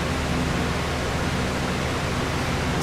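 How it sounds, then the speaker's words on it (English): Many fans running together in a room, a loud, steady, even broadband whoosh that stays constant throughout with no voices. "that's what it sounds like with all the fans running"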